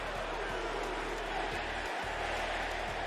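A wrestling match crowd chanting in an arena, a dense continuous roar of many voices with rhythmic swells, loud and steady throughout with no distinct single speaker.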